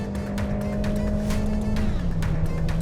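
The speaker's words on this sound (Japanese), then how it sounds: "エンジンは元気いいね。" A car engine drones at steady high revs at Fuji Speedway, running on cheap Chinese sports tyres, with a sustained tone that drops slightly in pitch partway through and faint ticking noises, close and loud.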